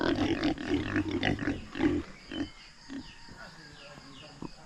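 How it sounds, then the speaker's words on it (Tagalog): Pigs oinking and grunting on a farm, several bursts close by in the first two seconds, then fainter scattered grunts, with people talking over and between them. "ito lang yung mga baboy"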